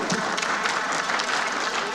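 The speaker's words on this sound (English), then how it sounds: "Please, a resounding applause for them" Sustained applause from a crowd at a House plenary session, dense steady clapping filling the whole stretch at even loudness.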